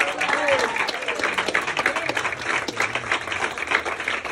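Church congregation applause at a pastor's installation ceremony, loud dense clapping with crowd noise and scattered voices calling out over it throughout.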